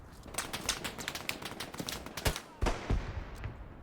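Machine gun fire in Hell Let Loose, a rapid string of sharp shots at moderate distance, rattling steadily and then breaking into a few heavier separate bangs.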